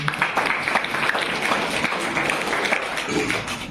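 A small group at a school farewell program claps briefly and steadily, a short round of applause filling the space at moderate volume.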